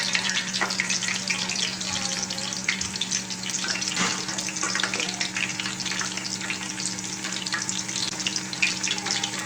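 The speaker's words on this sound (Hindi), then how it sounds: "पकौड़े ऑयल में डालना शुरू करेंगे। इस तरह से आप बनाएं और पैन में डालते रहें।" Aloo palak pakoras frying in a pan of oil give off a dense, steady crackling sizzle that runs unbroken and close throughout.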